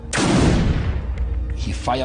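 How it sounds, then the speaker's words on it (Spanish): A single loud gunshot fired into the air, with a sharp, close crack that fades into a long, rumbling echo while faint background voices follow. "Disparó una bala al aire y me hizo valiente."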